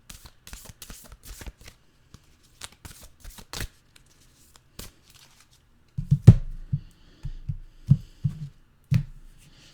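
Oracle cards are shuffled by hand at close range in a quiet room. Soft riffling and light handling noises come first, then a run of louder, rhythmic thumping shuffles near the end.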